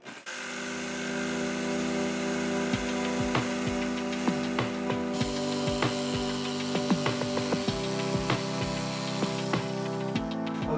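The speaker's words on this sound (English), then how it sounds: "I'm gonna finish the rest of this cut with a jigsaw." Jigsaw cutting wood for an upper van cabinet, holding a steady close motor whine with a buzzing blade and scattered ticks and clicks, with small shifts in pitch as the cut goes on.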